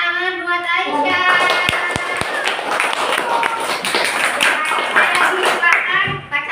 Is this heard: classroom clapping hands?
yes